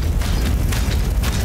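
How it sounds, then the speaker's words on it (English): Dull, sustained explosive rumble from the sci-fi game Aliens: Dark Descent, a dense low roar filling the whole moment with no clear single blast and no voices over it. "Okay, now explode it."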